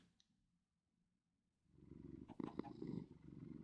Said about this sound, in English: Just a slight purr.